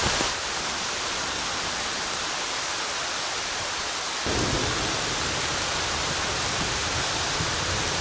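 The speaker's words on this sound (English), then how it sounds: "Rain is coming down big time now." Heavy rain pours steadily during a thunderstorm in the woods, a dense hiss broken by a deep rumble of thunder that swells halfway through and lingers under the downpour.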